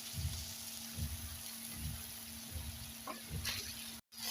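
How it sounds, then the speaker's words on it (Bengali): Spice paste sautés in oil in a pan for an egg dish, giving a soft, close sizzle with rhythmic stirring scrapes about once a second, cutting out briefly near the end. "মশলাটা যতক্ষণ না তেল বেরোয় ততক্ষণ ভালো করে কষানো ভালো হয়।"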